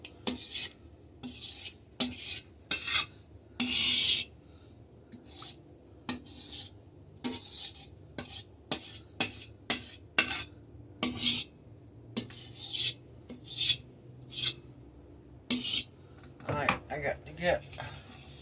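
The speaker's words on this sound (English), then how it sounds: "my scraper so I can finish cleaning that bowl out and get my sugar up" A scraper rasps around a bowl of homemade pumpkin pie filling in a kitchen, giving a series of short, close scraping strokes in an irregular rhythm, with a few light clinks near the end.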